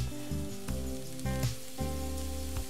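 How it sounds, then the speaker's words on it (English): Steady crackling sizzle of rice frying in a hot pan for risotto, mixed with a low droning hum that rises and drops in short sections. "You hear the little sizzle."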